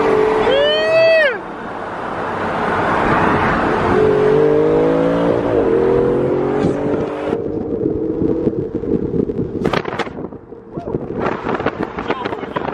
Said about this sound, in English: We got a Porsche